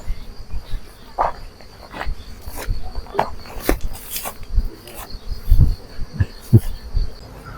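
Honey bees buzz around hives during a kapok (randu) honey harvest outdoors, a steady close hum with individual bees droning past, mixed with scattered knocks and handling noises.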